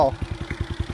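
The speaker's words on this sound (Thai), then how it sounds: "อันนี้เสียงรอบเดินเบา" A Honda Wave125i motorcycle with a 25mm titanium header and slash-cut exhaust tip idles with a steady low putter, pulsing evenly at a quick rhythm, fairly quiet and close.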